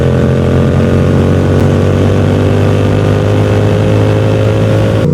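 Yamaha R7 motorcycle riding along a dirty road, its engine a loud, constant drone with steady wind rush, no speech.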